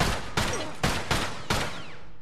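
Gunfire in The Last of Us multiplayer: five sharp, loud shots crack out at irregular intervals, each with a short echoing tail, with no talk over them.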